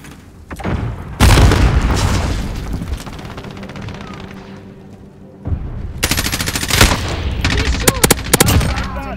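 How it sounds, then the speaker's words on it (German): Grenade blast and machine-gun fire in Call of Duty Modern Warfare: a loud explosion with long rumbling decay, then later bursts of rapid gunfire and sharp shots amid battle noise. "Werfe Granate."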